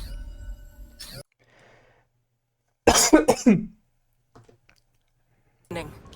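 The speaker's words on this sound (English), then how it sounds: "I just had to cough there for a split second" A single short burst of coughing, close and fairly loud, with brief bits of speech before and after.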